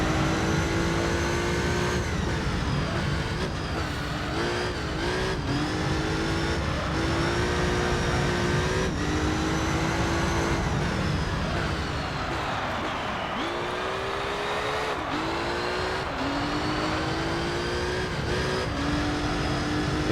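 A race car in the Gran Turismo 3 video game roars close and loud, its engine climbing through gears and dropping on shifts, with occasional tire squeal and no talk.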